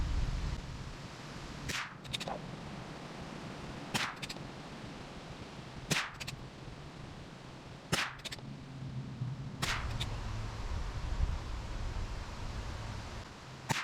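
.22LR rifle firing Federal Champion 36 grain copper-plated hollow point ammunition: five sharp, loud cracks spaced about two seconds apart, each with a short fading tail and quiet between.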